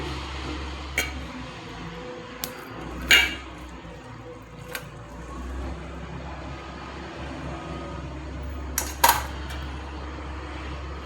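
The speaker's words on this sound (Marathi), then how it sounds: "उकळलेला बटाटा आणि या बटाट्याचा खिस आता चांगला एकजीव करून घेऊ" A spoon works boiled and grated potato together with sago in a dish, sending out sparse, sharp clinks against the bowl over a low background hum, with no talking.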